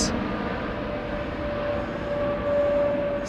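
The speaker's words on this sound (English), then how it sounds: "Hear the spool down there?" Jet engine on an aircraft at Heathrow Airport spooling down, a steady broad roar with a faint sustained whine, heard at a distance and fairly quiet throughout.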